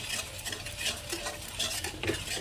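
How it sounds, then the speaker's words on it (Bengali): Dried fenugreek leaves roast in a pan while a utensil stirs them with close, scraping and rustling strokes over a soft, dry sizzle. "এটাও একটু একে রোস্ট করে নিচ্ছি, তাহলে খুব সুন্দর একটা গন্ধ আসবে।"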